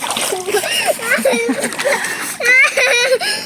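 Water splashing as someone swims, steady splatter and sloshing close by throughout, with children's voices talking and calling over it.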